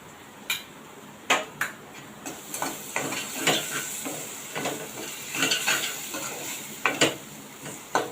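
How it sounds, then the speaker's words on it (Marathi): Spice paste with turmeric and coriander powder being sautéed in a pan: repeated sharp clinks and scrapes of a spoon against metal over a soft sizzle, irregular and close. "पेस्ट एक मिनिट चांगली परतून घेतली"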